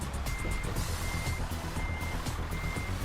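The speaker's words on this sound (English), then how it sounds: "That's it, reverse out, little truck, reverse out." Steady, insistent reversing beeps from a truck in Euro Truck Simulator 2, evenly spaced high tones sounding over a loud diesel engine rumble.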